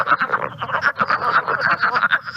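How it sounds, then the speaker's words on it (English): Dense chorus of spring peeper frogs calling in a Michigan coastal marsh, many high whistled peeps overlapping continuously at moderate loudness with no voices. "Have you heard this peeper before?"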